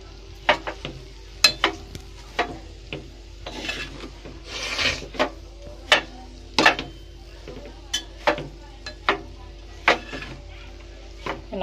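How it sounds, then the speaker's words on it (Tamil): Avul upma is stirred with salt in a pan, a series of dry rasping scrapes of the spoon against the pan at a steady, regular rhythm, close and fairly crisp, with no talking. "உப்பு எல்லாம் சேர்றது மாதிரி நல்லா கிளறி விட்டுக்கோங்க"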